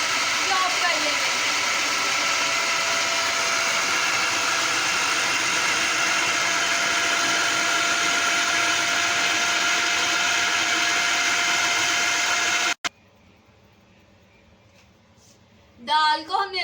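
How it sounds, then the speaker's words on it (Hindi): An electric chopper whirs loudly and steadily as it chops lentils and beef for shami kabab, running for about twelve seconds before cutting off abruptly; a brief burst of sound follows near the end. "अब हम इसके ऊपर डाल डालकर इसे अच्छे तरीके से चॉप कर लेंगे।"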